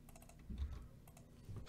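Quick clicks on a computer keyboard come in short, uneven bursts, close and soft, while code is written for a Roblox mini-game; no voice is heard.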